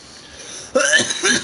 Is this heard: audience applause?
no